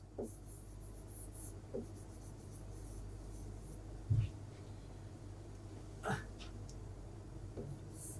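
Chalk or marker scratches across a board in a quiet classroom lecture, several short separate strokes spaced a second or two apart, faint and close.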